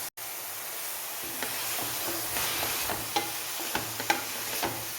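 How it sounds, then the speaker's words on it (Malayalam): A spatula scrapes and stirs leaf thoran (a leafy stir-fry with cabbage and grated coconut) in a pan, giving soft steady sizzling with a few sharp clicks of metal on the pan, fairly quiet and with no talk. "ഒരു ഇളക്കി ശരിയാക്കിയിട്ടുണ്ട്"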